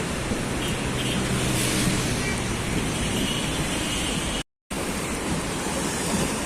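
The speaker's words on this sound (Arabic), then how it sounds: "بصوا في موج عالي جدا هنا" High winter sea waves pound the Alexandria shoreline and spill over tall concrete breakwater blocks, a loud, unbroken roar of surf mixed with gusting wind on the microphone.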